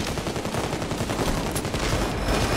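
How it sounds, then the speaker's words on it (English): Loud, dense rifle gunfire rattles in rapid succession during a PayDay 2 firefight, with sharp reports piling up almost continuously for a few seconds. "I was equipped with the wrong gun. Fuck. That's a bolt-action rifle,"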